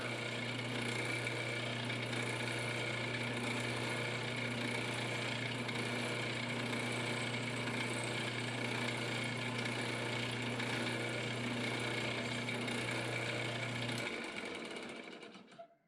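A drill bores steadily through a Stratocaster guitar body, giving a constant close motor whine with a grinding edge for about fourteen seconds before it abruptly winds down and stops.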